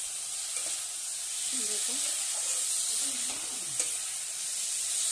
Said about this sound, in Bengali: এবার আলুটা দিয়ে আমি ভালো করে মশলাটা কষিয়ে নিচ্ছি আলুর সঙ্গে